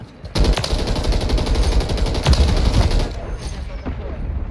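Rapid bursts of automatic gunfire from a video game shooter, loud and close, rattling continuously for several seconds before easing off, with players' voices talking over it.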